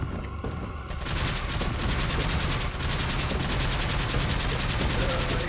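Sustained rapid gunfire rattles nonstop while shooting at a boss in Resident Evil 4, loud and dense after a brief quieter lead-in, with dull booms mixed into the barrage.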